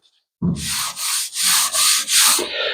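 A sanding board block-sands car primer in five or six loud, close, rhythmic rasping strokes, each separated by a brief pause.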